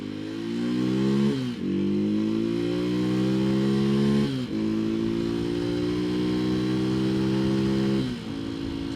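A Janus Halcyon 250 motorcycle engine revs hard through several rising throttle pulls, each climb broken by a brief dip before the next surge, loud and close with no talk.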